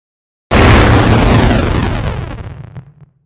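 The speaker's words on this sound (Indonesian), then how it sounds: "Dan ini adalah suara ultimate yang terakhir seperti ini." A spaceship video game ultimate attack: a massive booming blast that hits suddenly and rumbles with dense noise, slowly decaying over a few seconds, loud and alone.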